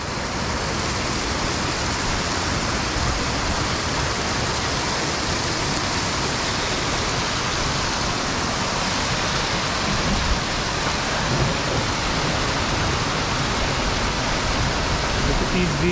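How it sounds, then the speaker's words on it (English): Heavy rain pours down steadily in a mountain storm at Yankee Boy Basin, a dense, loud, unbroken hiss that fills the whole recording and never lets up. "A little more rain."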